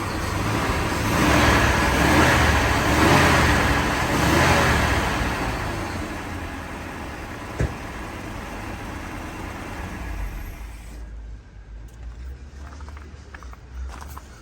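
A carbureted truck engine runs with a loud, rough rumble that swells and eases as the throttle is worked, then settles to a quieter steady idle. A sharp click cuts through midway, and faint voices come in near the end.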